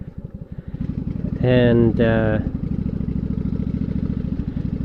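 A Yamaha V Star 1100 motorcycle idles while warming up, its low, steady engine rumble throbbing close and continuous as someone talks briefly over it.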